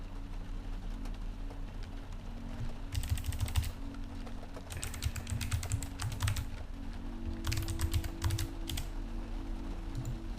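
Bursts of rapid key clatter as a first name is typed on a computer keyboard, three short runs of keystrokes over a steady low background hum, fairly close.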